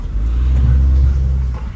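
A vehicle rumbles along a rural farm road, a loud, close, low engine drone that swells and eases slightly over a couple of seconds, with no talk.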